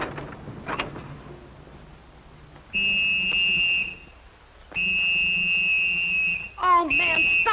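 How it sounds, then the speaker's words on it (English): A shrill whistle is blown in three long, steady blasts separated by pauses, loud and close, with brief background noise before the first blast. "stop blowing that whistle"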